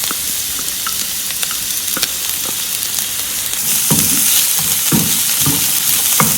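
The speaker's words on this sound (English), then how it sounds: "So you saute your onions for 1 minute." Chopped onions and garlic sautéing in a pan give a loud, continuous sizzle that swells partway through, with rhythmic stirring scrapes close up and no voices.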